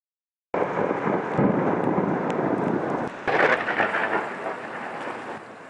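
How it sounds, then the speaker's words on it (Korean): Heavy night thunderstorm with red-tinged torrential rain: a steady roar of downpour, then a sharp crack of thunder midway that rumbles on beneath the rain, fairly close and loud. "하늘에선 쉴 새 없이 천둥과 번개가 내리칩니다."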